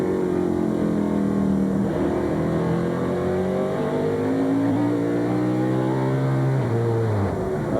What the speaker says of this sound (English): sounds like something definitely desperate happened inside that engine